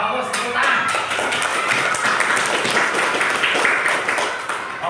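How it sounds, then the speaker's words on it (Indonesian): Children clap together in an Indonesian primary classroom, a dense, steady patter of small hands filling the room for several seconds, with a voice briefly audible over it. "Ya, bagus, tepuk tangan."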